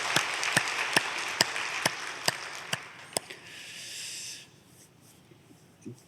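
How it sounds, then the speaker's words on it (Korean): A church congregation claps together in unison after a hymn: about ten steady, evenly spaced claps over a bed of crowd noise, which thins out and fades after the clapping stops. "오늘 여러분들이 같이 박수를 쳐서 하나님께 영광을 돌렸습니다"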